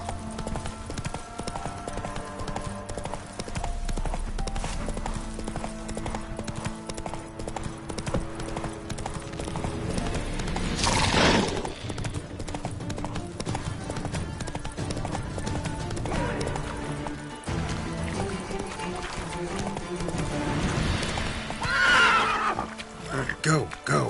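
Horse hooves clip-clop over a steady background while a horse neighs a couple of times, with people talking throughout.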